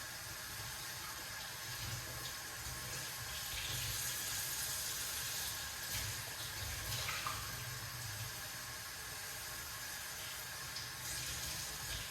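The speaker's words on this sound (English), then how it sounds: "Now we're going to wash off the pumpkin and put them into the water." Tap water runs continuously into a sink, a quiet, steady splashing stream with small shifts as a pumpkin is rinsed under it.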